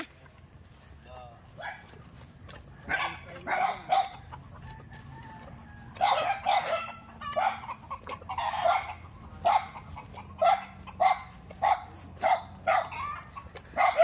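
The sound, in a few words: dogs barking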